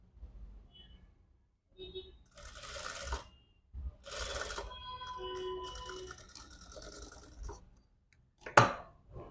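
A sewing machine stitches knit fabric around a puffed elbow sleeve in short bursts of rapid mechanical whirring separated by pauses, with a sharp click near the end and faint background sounds.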